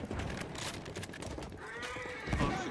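Horse hooves clatter through a Battlefield 1 battle scene, a quick run of clip-clop beats mixed with a whinny amid steady game noise, ending in a louder thump near the close.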